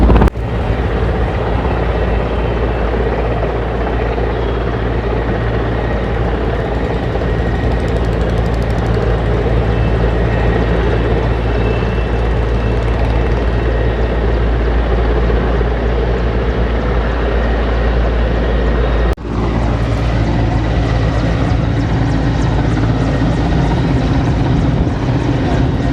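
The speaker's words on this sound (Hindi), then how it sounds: "आग है कि कई दिन से यहाँ पर हेलीकॉप्टर पानी भर रहा है" Helicopter ferrying water to fight a forest fire in the mountains, a loud continuous rotor and engine drone close by, steady for the whole stretch with a brief thump near the end.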